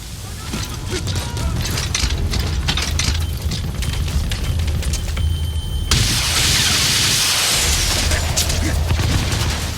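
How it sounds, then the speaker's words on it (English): Rocket impacts on an enemy tank in Metal Gear Solid V, a dense loud rumble of booms and bursts running throughout, swelling into a heavier roaring blast midway with a mix of game noise. "once you do lock it on and you can get all 6 of those rockets to impact the target"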